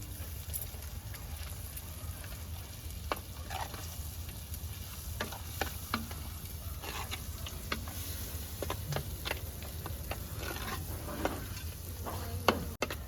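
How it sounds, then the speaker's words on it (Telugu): Homemade masala paste frying in oil for fish pulusu, a soft, continuous sizzle with scattered sharp spatters and occasional light stirring clicks. "మసాలా కూడా కొంచెం ఫ్రై కావాలన్నమాట"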